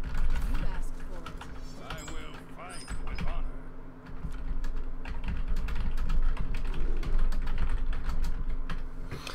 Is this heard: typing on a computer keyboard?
yes